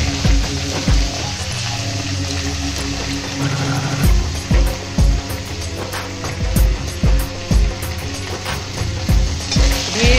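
Curry leaves sizzle and crackle in hot oil for a tempering, close and continuous, with repeated spoon knocks and stirring clatter against the pan.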